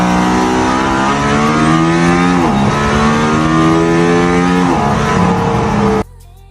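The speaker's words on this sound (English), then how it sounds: "The Mercedes-AMG One is a perfect example of why putting an entire F1 powertrain in a road-going car is nearly impossible." A Mercedes-AMG One road car with a Formula 1 engine revs hard and loud, its high-pitched note sweeping up and dipping twice before cutting off abruptly near the end.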